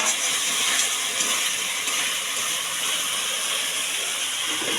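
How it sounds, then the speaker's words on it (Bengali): A cooking stove that is not sitting level gives off a steady, close hiss of steam for the whole stretch while fish is being cooked, broadband and unbroken, with no talking. "উনুনটা বসিনি তাই একটু শব্দ করছে।"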